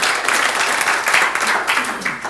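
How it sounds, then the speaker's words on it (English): An audience at a presentation gives Kelly a round of applause, a full, steady clatter of many hands clapping in a hall, slightly uneven in loudness across the stretch. "let's give Kelly a big clap"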